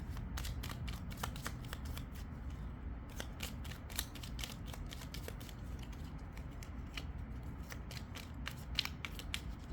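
Tarot clarifier cards being drawn and laid out, heard as a steady run of crisp shuffling snaps and soft card slaps, close and quiet, repeating irregularly with no talking.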